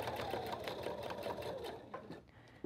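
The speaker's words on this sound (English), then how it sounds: "And then I just straight stitch that in place" A sewing machine runs a straight stitch on fabric for a makeup bag, whirring quietly and steadily at close range before it slows and stops near the end.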